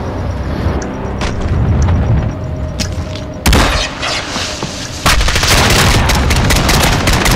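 Rapid bursts of SKS rifle fire ring out in a Modern Warfare match, two sharp loud volleys landing about a second and a half apart over a busy game soundscape, with players' voices chattering in the background.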